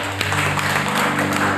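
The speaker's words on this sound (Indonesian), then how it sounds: "Berikan tepuk tangan buat Tuhan." Church congregation clapping during a sermon, a broad, steady burst of many hands over a sustained low hum of instruments or amplification, fairly loud and continuous.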